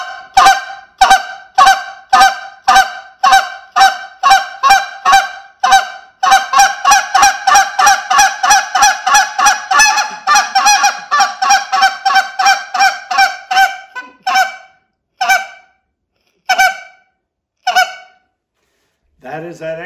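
A goose call blown in rapid hoots, a long run of loud, evenly spaced honking notes that quicken into a fast stream before slowing to a few scattered hoots at the end.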